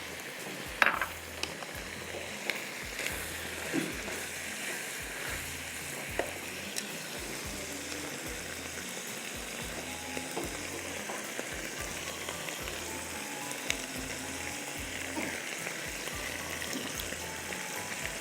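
Mushrooms, onion rings and capsicum rings frying in a mix of butter and oil, a steady close sizzle with faint crackles and occasional stirring clinks, no voices.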